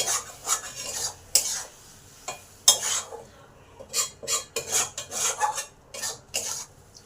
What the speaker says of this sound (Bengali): আবার সবকিছু একটু ভালো করে মিশিয়ে নিলাম